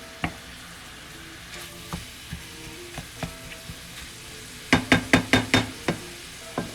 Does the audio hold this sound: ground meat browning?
yes